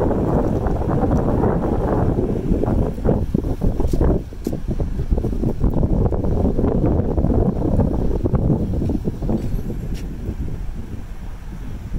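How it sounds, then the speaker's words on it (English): Strong wind blows steadily outdoors beside a parked trailer, buffeting the microphone with loud, continuous rumbling gusts for the full twelve seconds and no talking. "It's windy out, so I won't talk."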